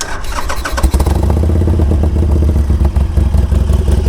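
A Harley-Davidson Sportster motorcycle engine cranks and fires up, settling into a loud, rumbling, lumpy idle right nearby.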